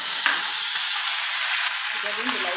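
Dry chilies, fenugreek and bay leaves dropped into hot oil, crackling and sizzling steadily at close range with light stirring.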